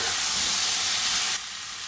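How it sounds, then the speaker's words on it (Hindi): Boiled lentils frying in masala for stuffed bitter gourd, a loud, dense hissing sizzle that suddenly drops to a quieter steady fry near the end. "अब इसके अंदर ये हम लोग बॉयल दाल जो है वो ऐड कर देंगे और इसे मज़ीद 4-5 मिनट के लिए भूनेंगे"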